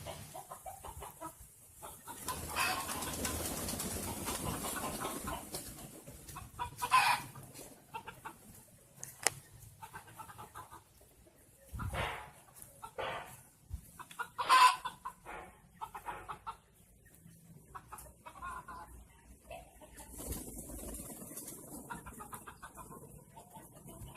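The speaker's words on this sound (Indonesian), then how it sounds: "Ini burung merpati kipasnya lagi." Fantail pigeons cooing and murmuring nearby, a series of soft, irregular bursts of throaty calls with pauses between, some louder notes standing out, no talk.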